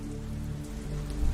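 Steady rain falls at night, a dense, even patter on surfaces that holds at close range through the short stretch with no voices.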